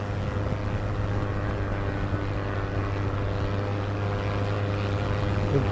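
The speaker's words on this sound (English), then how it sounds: "there's the aircraft that I can hear the engine of" A propeller aircraft engine drones with a steady hum in a glider simulator video game, a constant low tone held without change through the whole stretch.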